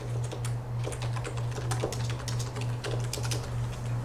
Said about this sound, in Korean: 그 다 돼서 이제 엔터 세 번 치세요.